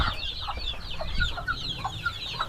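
Many chicks and chickens on a gamecock game farm make constant high peeping chirps over soft low clucks, a busy close chorus with no talking.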